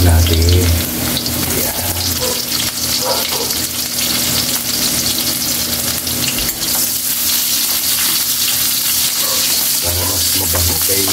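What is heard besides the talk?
garlic and onions sauteing in pan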